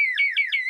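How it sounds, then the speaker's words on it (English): An electronic alarm tone sounds in three rapid pulsing bursts over a steady high pitch, loud and close with nothing else beneath it. "It's the sound of the alarm."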